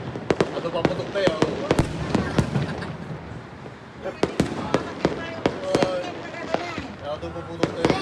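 Sharp pops and bangs from New Year's Eve fireworks at a Filipino family celebration burst in an uneven, rapid series over steady background chatter from the gathered crowd.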